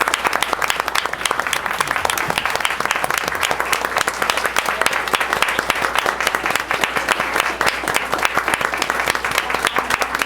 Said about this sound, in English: Please give everyone one final round of applause.